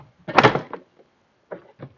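Interior door panel coming off a Nissan Quest during a power window motor replacement: a loud plastic pop and scrape, then two shorter clicks of clips releasing a moment later, close and with no talk.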